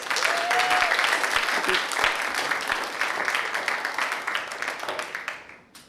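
An audience at the SJSU Grad Slam 2023 competition applauds steadily, with dense clapping that gradually tapers and fades out at the end.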